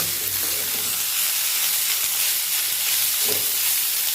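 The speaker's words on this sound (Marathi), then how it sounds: "आपल्याला एक 10 ते 15 मिनिटे असे छान कांद्यामध्ये भाजून घ्यायचे आहेत" Bitter gourd frying with onions in oil in a pan, a steady broad sizzle and hiss running throughout with a brief stir around the middle-end, close and continuous with no talking.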